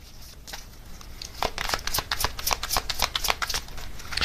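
Tarot cards riffled and slid from a deck, a run of close, crisp papery flicks and snaps that quicken into a dense burst of shuffling after a quieter start.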